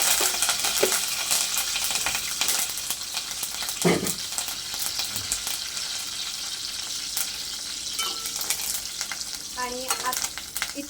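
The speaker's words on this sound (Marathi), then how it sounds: "लसूण थोडासा फ्राय झाला त्याच्यामध्ये भरपूर सारा कढीपत्ता घालायचा" Garlic and a generous handful of curry leaves fry in hot oil in a Konkani kitchen. Steady close sizzling and crackling is joined by a few stirring scrapes and clinks of a utensil against the pan.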